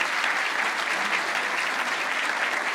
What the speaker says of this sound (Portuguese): Uma salva de palmas para essas meninas